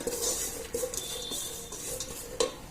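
Dry coconut roasting in a pan while being stirred, with faint clinks and scrapes of a utensil against the metal at an irregular rhythm over a soft background, no voices.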